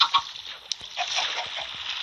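A chicken clucks and honks in short, irregular bursts, fairly close but not loud, with faint background noise in between.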